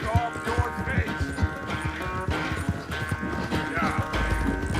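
Horse hooves clip-clopping steadily in Red Dead Redemption 2, a close rhythmic plodding that runs under other game sounds, with an occasional faint bleat in the background.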